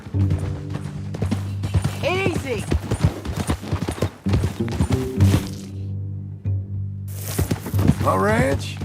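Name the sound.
horse hooves in video game Red Dead Redemption 2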